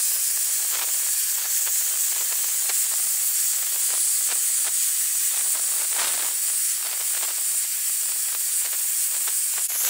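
A pressure cooker whistles steadily while steam hisses out under pressure as pulao cooks in a home kitchen, one loud continuous jet that holds without pause, with faint clicks and rattles beneath it.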